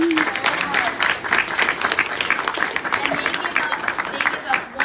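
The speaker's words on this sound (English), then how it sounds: "I'd like to start by giving them a round of applause" An audience claps for a group of student media interns in a sustained round of applause, dense and steady throughout, with a voice briefly heard at the start.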